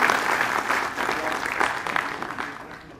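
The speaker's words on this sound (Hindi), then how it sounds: "एक बार सभागार में सभी लोग जोरदार तालियों से" An audience claps loudly and steadily in an assembly hall at a cooperative bank's annual general body meeting, dense and sustained for about three seconds before easing slightly.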